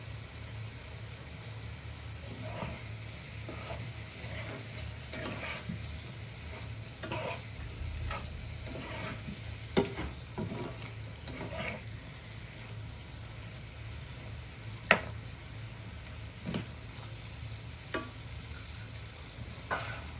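Food being slowly sautéed (kosha) in a pan, often covered, giving a quiet continuous sizzle with repeated stirring clatters and occasional sharper spatula knocks over a low steady hum.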